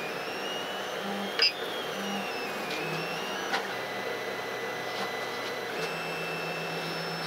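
A Creality CR-10 3D printer runs a mid-print filament change, its stepper motors whining and humming steadily at close range. Several pitch shifts mark the print head moving, with brief clicks along the way and no voices.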